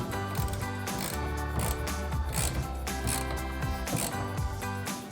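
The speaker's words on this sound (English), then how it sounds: "we'll tighten down our set screws again with that 5mm Allen wrench or Allen socket" A 5mm Allen socket or Allen wrench tightens set screws on the latches of a Rough Country hard low-profile tri-fold tonneau cover on a Silverado 1500, giving rapid repeated ratcheting clicks over a steady mechanical, tonal background.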